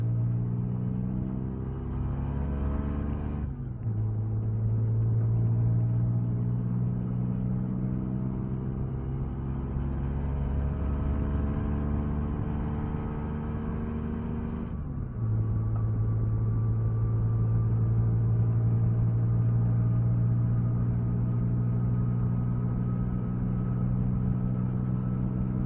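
A car powered by a computer-controlled supercharged Kubota diesel engine drives along a road, giving a steady droning rumble that shifts pitch twice as it changes gear, with no talking.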